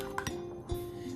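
Spoon stirring garlic powder and spices into a sauce in a bowl for Chinese chicken pakora, a few light clinks against the bowl over soft steady scraping, close and quiet.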